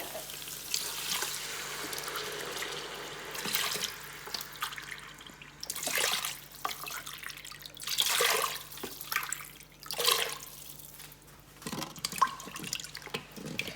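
Water is poured into an Instant Pot holding rice in a kitchen, heard as intermittent splashing and trickling bursts at close range, alone with no talk.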